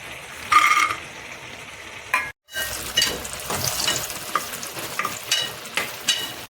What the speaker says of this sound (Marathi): तर आम्ही इथं काजूला फ्राय करून घेणार आहोत